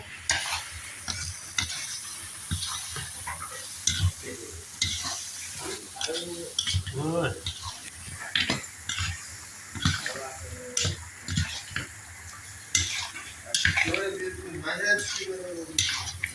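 Gazhi-guzhi, an Uzbek dish, stirred in a frying pan over a lowered gas flame, with ground meat and spices sizzling; repeated scraping strokes of the utensil come with clatter, and voices talk intermittently over it.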